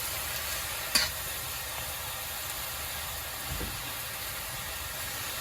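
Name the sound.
stir-frying hand torn cabbage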